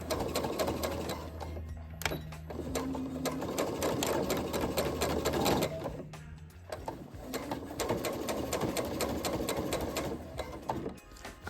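Sewing machine stitching a skirt waistband for a Snow White cosplay costume, running in steady rapid bursts with brief pauses near two and six seconds, close and fairly loud with a mechanical whir and clatter.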